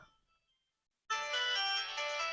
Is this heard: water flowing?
no